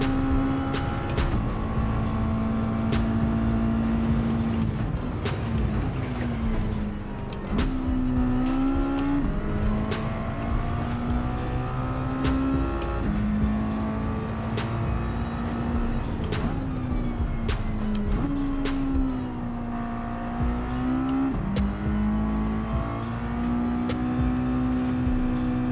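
A Mazda Miata race car engine in Gran Turismo 7 drones steadily through a one-make race, rising and dropping in pitch through gear shifts, with tire squeal and other cars nearby.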